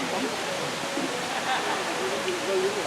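St Nectan's Waterfall in Cornwall rushes in a steady, broadband wash of falling water, moderately loud and continuous from start to finish, with no clear talking.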